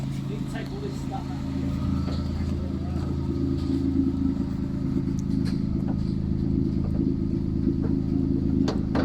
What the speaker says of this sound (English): that might be what the rattling's coming from